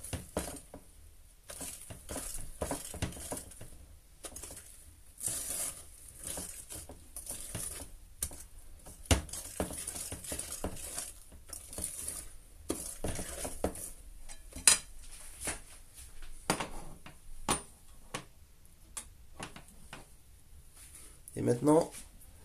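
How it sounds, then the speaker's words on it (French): Chocolate cake batter is mixed in a bowl, a quiet, irregular patter of a utensil scraping and tapping against the sides, close and soft, with occasional sharper clinks. "vous mélangez bien la pâte"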